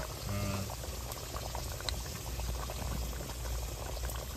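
Koi fish curry with giant taro root bubbles in a pot at a steady, continuous boil, a close and even simmering burble throughout with no talking.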